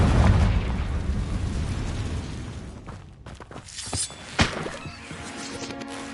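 A Confringo fire spell blasts in a Harry Potter video game, a loud rumbling explosion that dies away into scattered sharp bursts and crackles, with one hard hit near the end.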